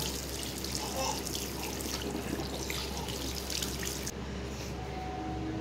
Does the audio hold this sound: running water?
yes